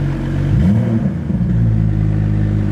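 A BMW 435 car engine revs once near the start, a loud, close rising-and-falling burst of engine tone over a steady idle rumble, then settles back to idle with no one talking.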